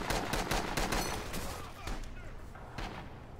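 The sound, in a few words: close artillery fire in the video game Rising Storm 2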